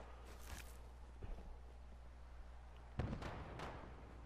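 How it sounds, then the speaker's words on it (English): Faint, distant video game explosions and gunfire in Fallout 4 thud and pop intermittently over a steady low rumble, with a sharper burst near the end. "you just hear explosions in the distance and gunshots all the time"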